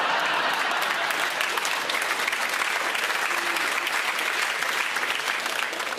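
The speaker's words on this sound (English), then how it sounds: "You know why you're clapping, right?" Sustained applause from a theatre audience at a comedy show in the UK, a dense, steady wash of many hands clapping throughout without a break.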